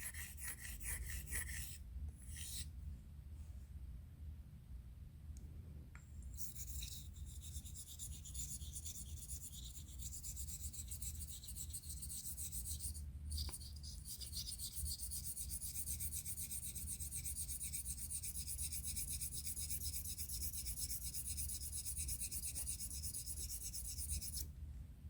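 A Thiers Issard Evide Sonnant Extra straight razor is stroked back and forth across a Belgian coticule stone, giving faint, steady scraping and rasping strokes that sound close and quiet and continue with no talk.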